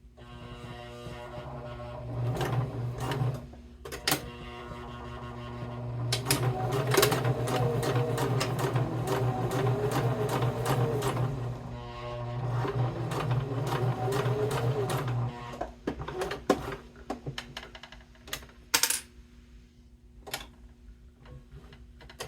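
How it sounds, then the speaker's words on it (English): A sewing machine stitches a bifold wallet from the bottom edge, starting and stopping in short runs of rapid ticking, then trailing off into scattered clicks and handling taps, close and fairly quiet. "I'm going to sew from the bottom"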